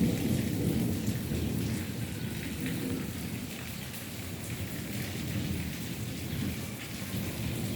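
Steady rain and a rumbling thunderstorm fill the whole stretch, a dense low roar of downpour with continuous rolling thunder close by and no voices.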